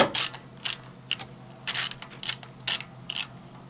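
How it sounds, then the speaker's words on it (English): A nut holding a Zenith 28IF carburetor to the intake manifold is worked loose with a ratcheting wrench, giving short bursts of metallic clicking in an irregular rhythm, close and fairly quiet, with no talking. "Now I just have to undo this nut on this side and also the other side"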